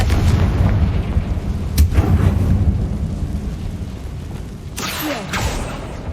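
Bombarda and Confringo spell blasts in Hogwarts Legacy ring out over a dense, rumbling game soundscape, with a sharp crack near two seconds and a louder burst near five seconds.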